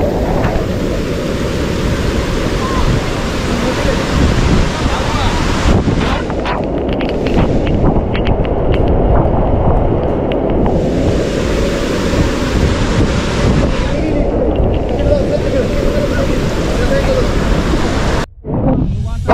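Heavy water pours and roars steadily at Kalu waterfall in Malshej Ghat during rain, with wind buffeting the microphone, a dense continuous rush close by.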